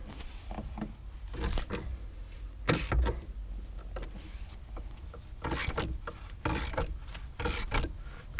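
Ratchet wrench working on a 13 mm bolt holding a 2017 Cadillac CTS-V trunk-mounted battery: bursts of close ratcheting clicks and metallic scraping in irregular spurts, with no talk.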